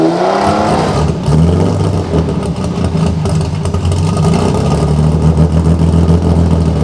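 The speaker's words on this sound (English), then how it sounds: "The 1979 race car we're listening to is claimed to get close to 200." A 1979 Group 1 racing Ford Capri V6 roars at steady high revs throughout, a loud, close, sustained engine note with rising and holding harmonics and no voices.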